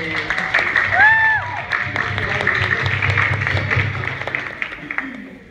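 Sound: audience applause for hula hoop act

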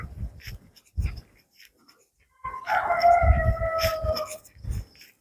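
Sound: dog barking and howling in early morning city

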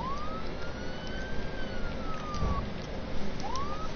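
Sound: police car siren in the Friday the 13th video game

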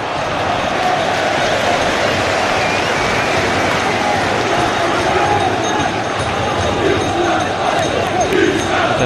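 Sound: vocal football crowd noise at Fratton Park

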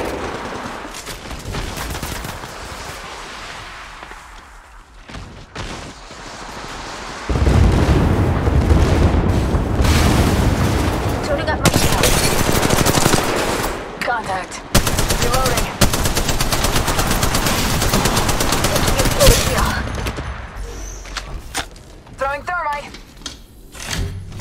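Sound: gunfire from the Apex Legends Mobile video game

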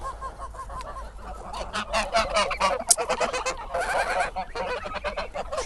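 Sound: geese honking

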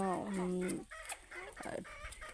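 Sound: local desi chickens clucking

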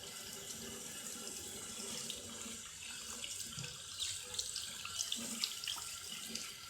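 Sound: shower water pouring over chicks

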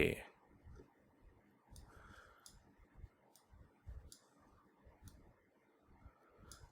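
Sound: computer mouse clicks

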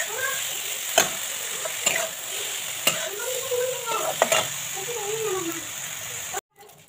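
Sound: tomatoes frying in a pan

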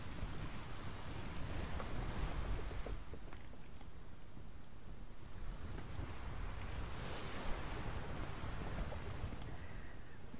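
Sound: big ocean waves in a video game

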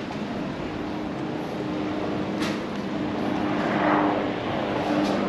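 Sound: helicopter flying overhead

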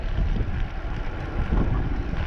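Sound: wind blowing

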